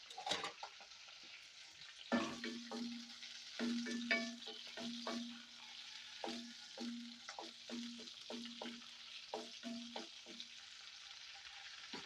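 Ingredients and coriander seeds fry in a pan for ridge gourd chutney, with a soft steady sizzle and repeated stirring clinks, heard close and quiet.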